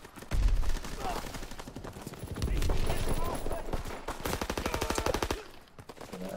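Rapid bursts of video game gunfire, loud repeated rattling shots in quick rhythmic volleys, with a voice heard talking among them.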